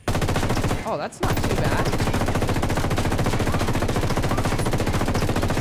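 A Llamativo light machine gun in Ghost Recon Wildlands fires full auto in one long, dense, loud burst after a short opening volley, with a voice briefly speaking over it.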